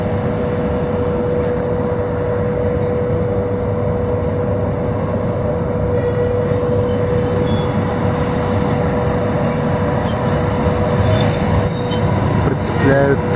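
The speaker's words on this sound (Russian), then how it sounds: "Прицепляют электровоз." An electric locomotive is coupled to train cars at night at Tobol station, with a steady electrical hum, rumbling rail noise and a few metallic knocks toward the end, and voices faintly audible.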